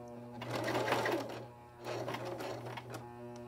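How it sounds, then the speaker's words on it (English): Sewing machine stitching a sleeve seam on an 18-inch doll dress, with two close, steady whirring bursts separated by a brief pause. "now I'm going to turn and I'm going to sew out on this seam, on this sleeve"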